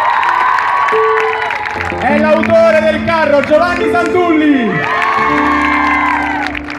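A crowd at a float presentation cheers and whoops for the craftsmen's committee, the noise loud and sustained while someone speaks over it on a microphone.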